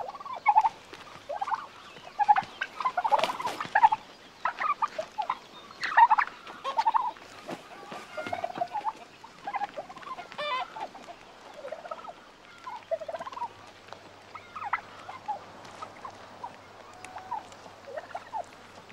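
Turkeys gobble and fight in a farmyard with bursts of throaty gobbling, scuffling and pecking. The noises come close and irregular, with shorter busy noises mixed in throughout.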